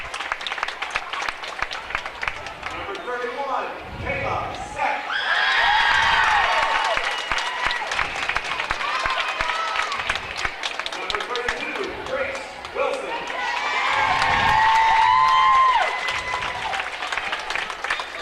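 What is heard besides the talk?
fans applauding runner-up medal recipients at girls' game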